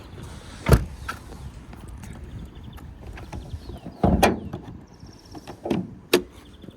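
Hood of a Renault Megane 2 with a 1.6 petrol engine is opened, producing a few sharp plastic and metal clunks and thumps spaced over several seconds, close and fairly loud against quiet surroundings.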